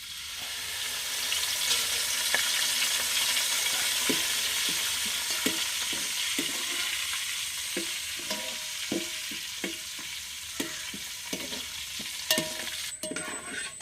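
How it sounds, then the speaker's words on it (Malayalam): Curry leaves fry in a pan with a continuous loud sizzle, while a spatula knocks and scrapes in a fairly regular rhythm through the second half. "ഞാൻ കുറച്ച് കറിവേപ്പില ഇവിടെ വറുത്തെടുക്കുന്നുണ്ട്."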